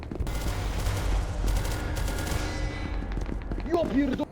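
Rapid gunfire from a zombie video game, sounding like a .45 pistol, rattles in quick bursts that thin out toward the end, with a voice talking under the shots.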